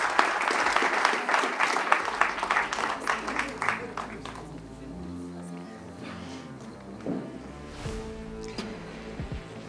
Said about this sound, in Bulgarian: Аплодисменти за тези прекрасни момичета.